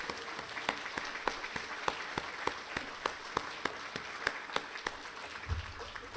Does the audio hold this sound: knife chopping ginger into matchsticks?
no